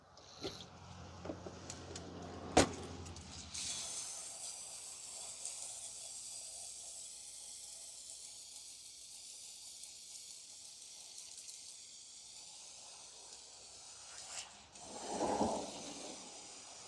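Carburetor cleaner hisses from an aerosol can onto a Holley 4150 four-barrel carburetor on a 1982 Oldsmobile Cutlass Supreme 454, a long steady spray after a sharp knock, followed by a brief rustle near the end.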